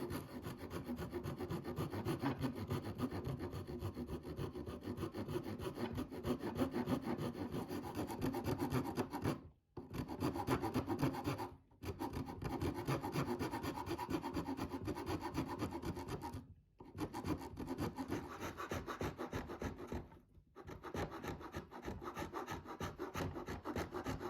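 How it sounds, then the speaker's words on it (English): Continuous rhythmic rasping of an Iwasaki file scraping across wood on a guitar build, close and steady, broken by a few brief pauses between strokes. "in the end I just settled on using my Irasaki files."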